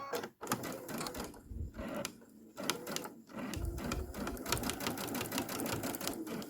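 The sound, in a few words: sewing machine stitching around an embellishment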